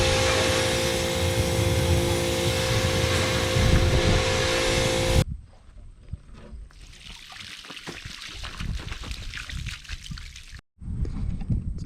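Vinegar pours into the rusty fuel tank of a 1978 Yamaha XS650 motorcycle, a steady gurgling stream that shifts to a thinner trickle echoing inside the metal, briefly cut off before resuming.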